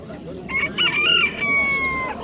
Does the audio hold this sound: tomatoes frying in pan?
no